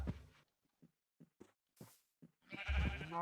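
A Minecraft cow in a video game gives a low, drawn-out moo at the end, after a few short, soft game noises spaced through the quiet.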